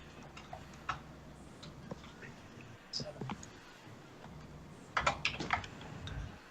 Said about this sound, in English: I'm typing something.